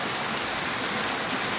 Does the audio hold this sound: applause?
no